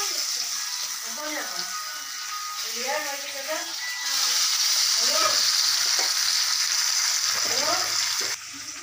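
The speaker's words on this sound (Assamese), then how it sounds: "এয়া মাছ ফ্ৰাই কৰি থকা হৈছে।" Fish frying in a pan in a home kitchen, a steady bright sizzle and hiss running throughout and growing louder midway, with faint voices and clatter of stirring underneath.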